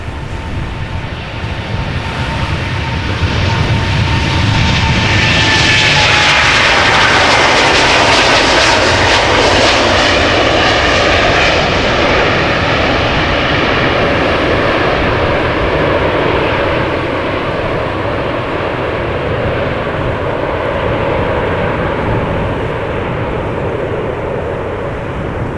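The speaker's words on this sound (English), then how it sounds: "The United airplane that you saw in the background will be going to Newark," A United Boeing 777-200 taking off at Amsterdam Schiphol, a loud, close, continuous jet engine roar that swells to a peak and holds steady for over twenty seconds, with a whining tone early on and no voices.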